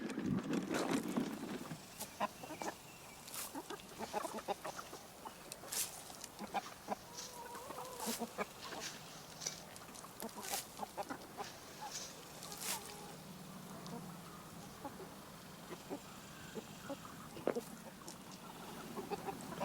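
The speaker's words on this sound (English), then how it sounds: "So the chickens are doing good today." Chickens cluck and squawk around a farm yard, scattered short calls near and far over a quiet background, with a few sharp bursts standing out.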